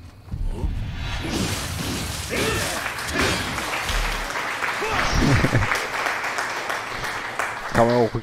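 Applause in the video game Nioh 2 rises as a steady patter of clapping, with a voice speaking over it and a few sharper hits near the end.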